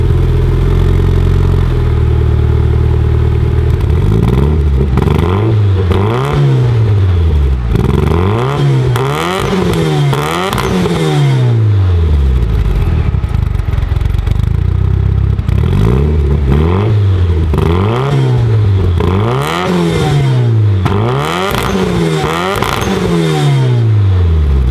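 A Mitsubishi Lancer Evo fitted with HKS parts starts up and is revved repeatedly, with loud, close engine sweeps that climb and fall in a steady rhythm over a continuous rumble, and no voices.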